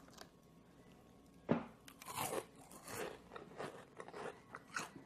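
Crisp bites and crunchy chewing of fried purple-flower vegetable tempura, a sharp first crunch followed by several quieter chews close to the ear, with no talking.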